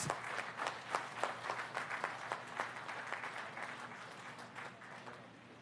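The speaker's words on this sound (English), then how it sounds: "A big round of applause." Audience applause at the presidential inauguration of the Samar Pacific Coastal Road project, a steady wash of many hands clapping with distinct claps standing out, fairly distant and gradually thinning toward the end.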